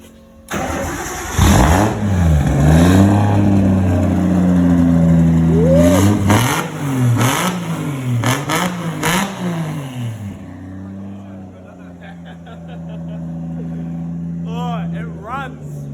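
A Nissan RB25DET engine in an S14 Silvia fires up for the first time and revs loudly in repeated rising and falling bursts, then drops to a quieter idle with voices talking nearby.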